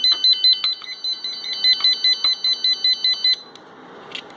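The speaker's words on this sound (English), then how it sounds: "Till this system is reset, the fire alarm will not stop." An electronic fire alarm on a TI MSP432 home automation setup sounds as a rapid series of high, shrill beeps in an even pulsing rhythm, close and loud, then stops abruptly, leaving a quiet hiss.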